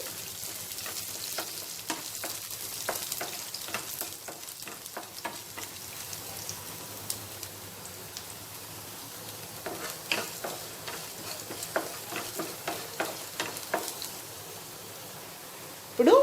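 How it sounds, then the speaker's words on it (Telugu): Thinly sliced garlic fries in a pan for a chilli garlic rice, giving a steady low sizzle with scattered crackles and a few stirring scrapes, fairly quiet and close throughout. "సన్నగా కట్ చేసుకున్న ఈ వెల్లుల్లిపాయ ముక్కల్ని కూడా ఇందులో వేసేసుకొని మనము ఫ్రై చేసేసుకోవాలి"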